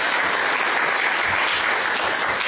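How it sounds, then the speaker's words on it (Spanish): An audience at a university event in Peru applauds steadily, a loud, dense wash of clapping that holds evenly throughout with no voices over it. "Recibimos nuevamente con fuertes palmas al ingeniero Mesías Guevara"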